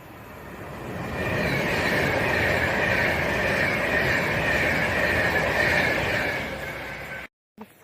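A Freightliner freight train passes on the West Coast Main Line at Rugeley Trent Valley, a loud, sustained rumble of wagons with squealing wheel noise, rising then fading before cutting off abruptly.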